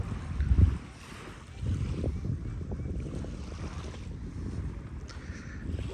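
Motorboat crossing open water to Espíritu Santo island, Baja California Sur, with steady engine rumble, wind buffeting the microphone and wave wash throughout, louder bumps near the start.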